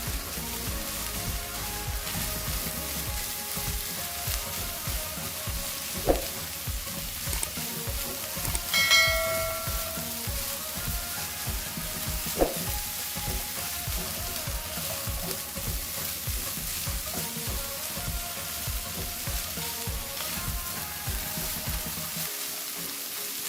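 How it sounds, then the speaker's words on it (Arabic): Onions and chicken sauté together in a pan, giving a steady, close sizzle with occasional stirring scrapes and faint metallic clinks. "هنزل كده بحبتين البصل مع الفراخ، وهديهم تشويحه مع بعض لغايه لما البصل يدبل"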